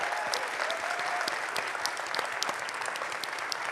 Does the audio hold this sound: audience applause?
yes